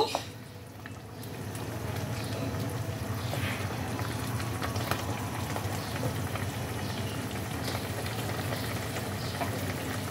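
A pabda fish curry (jhal) boils in its spicy gravy in a pot, with a constant, moderate bubbling and sputtering that holds evenly throughout, no voices over it.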